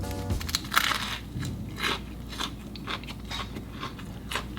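Close, crisp crunches as someone bites into a peanut butter and jelly sandwich topped with Ruffles potato chips, followed by repeated crackly chewing bursts with no talk.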